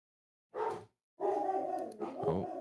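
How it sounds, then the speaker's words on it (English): Dogs bark nearby: one short bark, a brief pause, then a longer run of overlapping barks and yips. "Oh, and that's my dogs."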